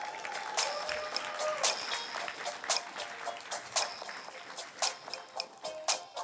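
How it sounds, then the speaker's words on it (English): Scattered audience applause for poets at a Poetry Out Loud recitation event, faint and sparse with individual claps and a thin ringing tone underneath. "Give them all a round of applause."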